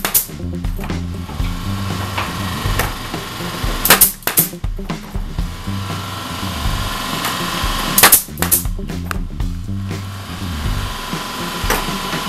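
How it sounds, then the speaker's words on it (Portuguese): A pneumatic T-nail gun drives 55 mm T-pins into wood while a wooden balcony is built: loud, sharp close shots in quick pairs and clusters among steady workshop clatter, with no talk. "estou usando uma pistola do tipo T com pino T de 55mm"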